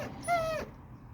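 A single brief, high-pitched dog whimper rises and fades over steady low background noise, close and moderately loud, with nobody talking.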